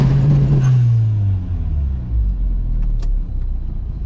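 A VW MK3 with a swapped-in 1.8T engine does a two-step launch. The close, loud engine roar drops in pitch as the revs fall, settling into a deep rumble with a few faint clicks.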